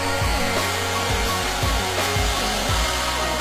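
A hair dryer blows steadily and loudly, a continuous close-up whoosh with a low motor hum and a faint pulsing rhythm, with no voices.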